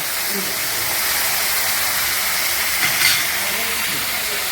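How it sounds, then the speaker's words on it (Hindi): Water poured onto tomatoes in a hot pan sends up a loud, steady steaming hiss that fills the whole stretch, with faint voice-like sounds underneath. "थोड़ा सा पानी डाल देते हैं और बस मेरा टमाटर पक जाता है"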